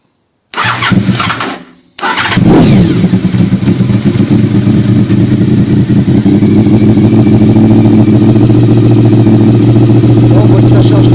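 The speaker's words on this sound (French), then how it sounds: "Et je vais appuyer sur le démarreur." A Honda VFR RC36-2 motorcycle cranks on its electric starter with a brief whir, then fires up and settles into a loud, steady, close idle.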